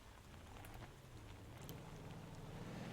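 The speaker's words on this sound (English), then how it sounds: "The rain doesn't really help things right now." Steady rain in the driving game Motor Town, a constant soft hiss with faint patter spread evenly throughout, moderately quiet with no voices over it.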